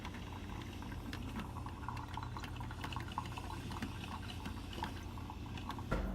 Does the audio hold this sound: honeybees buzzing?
no